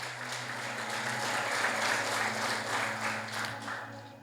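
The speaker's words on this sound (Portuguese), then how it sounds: "Aplauda o Senhor Jesus" Church congregation clapping together in praise during a service, a steady, fairly distant wash of applause over a low hum that holds for several seconds.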